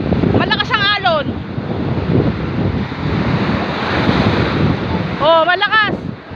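Strong surf roars steadily throughout at Tondaligan Beach with wind buffeting the microphone, while people shout briefly near the start and again near the end.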